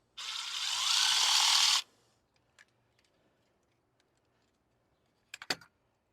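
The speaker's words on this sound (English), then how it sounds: "we've got a mounting screw. So we're just going to take that out" A power screwdriver backs out the mounting screw of an outdoor light fixture in one loud, close whirring burst of about a second and a half, followed by faint clicks and a brief clatter near the end.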